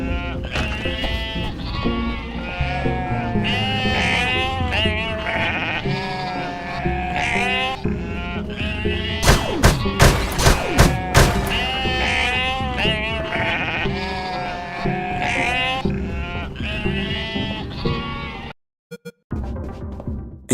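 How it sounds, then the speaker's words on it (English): A flock of sheep in the video game UnMetal bleats in overlapping waves, many loud wavering cries piling on one another over background music, cut off briefly near the end. "250 sheep."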